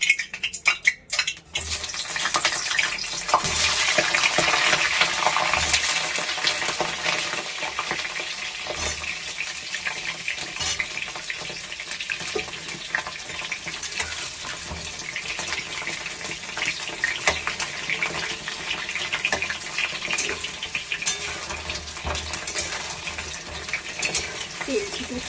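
Eggplant pieces frying in very hot oil in a wok, a dense, steady crackling hiss with heavy spattering that runs loud and unbroken throughout after a brief rattling start.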